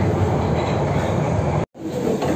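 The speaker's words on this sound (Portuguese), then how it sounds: "tô saindo agora do metrô aqui" A moving London Underground train roars loudly and steadily with a dense rumbling rush, broken by a brief dropout before the rolling noise resumes.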